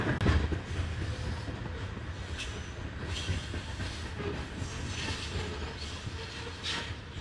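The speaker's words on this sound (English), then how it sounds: "This train has been passing for like 10 minutes now." A very long freight train rolls steadily past at a distance, a continuous low rumble with faint clickety-clack and soft hissing, no voices.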